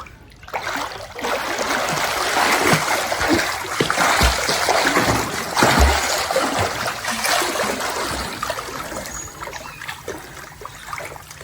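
A person swims in open water during a Survivor-style challenge, with continuous close splashing and churning water and a few heavier strokes, loud and without talk.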